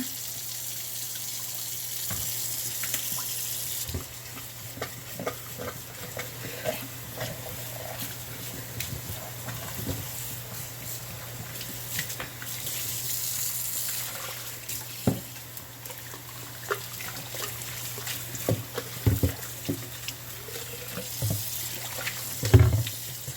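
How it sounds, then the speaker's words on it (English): Warm water runs from a tap over a plastic reverse-osmosis filter housing being rinsed, a steady close splashing wash with intermittent clunks and handling knocks, no talking. "On the outside with warm running water."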